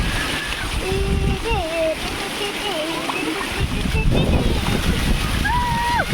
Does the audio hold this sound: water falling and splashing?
yes